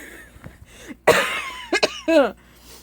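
A single harsh cough bursts out close up, followed by a couple of short strained throaty sounds.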